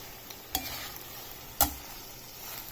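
Mixed vegetables frying quietly in a pan as red chili powder is stirred in, with a soft background sizzle and two sharp clinks of a spoon against the pan.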